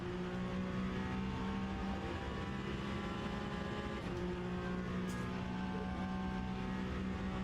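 A Peugeot hypercar in the racing game Le Mans Ultimate, its engine a steady, droning hum held at constant revs throughout, moderately quiet, with no voices over it.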